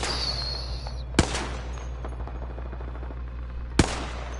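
Gunfire in the video game Apex Legends: two sharp, loud shots a few seconds apart over a low rumbling game ambience, with faint clicks and mechanical sounds between them.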